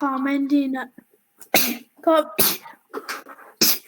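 A single sharp sneeze bursts out near the start of a 5th grade fractions lesson, followed by a teacher speaking in short phrases.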